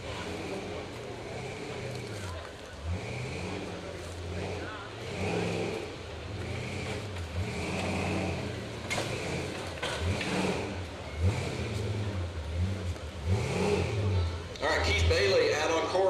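Unlimited off-road race vehicle starting a hill climb, engine revving hard in repeated rising and falling surges from mid distance, with an announcer talking over it throughout.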